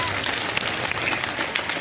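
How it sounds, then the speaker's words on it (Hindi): A large audience at a Reliance event applauds in a dense, steady wash of clapping that lasts under two seconds, with some voices mixed in. "अपने लिए भी तालियां बजा लीजिए आप लोग सबके सब यार."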